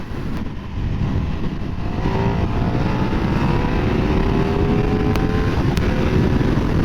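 A KTM 1390 Super Duke motorcycle accelerates hard, its engine a loud, steady roar with rising harmonic sweeps as it pulls through the gears, heard up close from the rider's position with wind noise.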